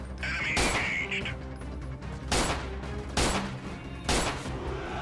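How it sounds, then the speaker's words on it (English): Gunfire from the game Freeman Guerrilla Warfare: four loud, close shots spaced about a second apart over steady background noise, with no speech. "I shot him from this distance"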